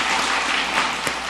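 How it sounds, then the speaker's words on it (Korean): A church congregation at a Sunday service claps together in a dense, steady burst of applause that fills the room and runs continuously for the whole moment. "다음 세대를 위해서 우리 박수 한번 하겠습니다"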